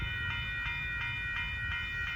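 A northbound Union Pacific sand train passes at Dittmar Road in Austin, Texas, giving a steady, moderately distant rumble with evenly spaced wheel clicks and no voices.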